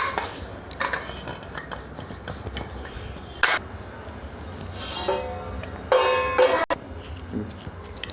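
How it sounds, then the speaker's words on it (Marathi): A pressure cooker's sealing ring and whistle being removed in a home kitchen during eggless sponge cake prep, with scattered metallic clinks and clacks, a few sharp knocks and a short rattling scrape near the end. "कुकरची रिंग काढून घेऊ व शिट्टी काढून घेऊ"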